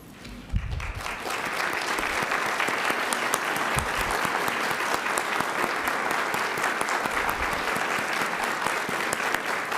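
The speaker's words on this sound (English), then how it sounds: "please stand up so we can give you a round of applause." Applause swells after a brief voice at a city council meeting as the audience honors veterans, many people clapping steadily and loudly for several seconds.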